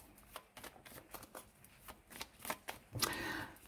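Small divination cards being shuffled by hand, soft rapid riffles and slides in quick irregular bursts, close and quiet, ending in a denser rustling flurry.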